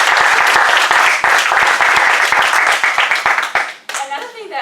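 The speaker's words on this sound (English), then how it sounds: "So a round of applause, please." Attendees at a club meeting break into loud, dense applause that carries on for several seconds before tapering off, and a voice begins talking at the very end.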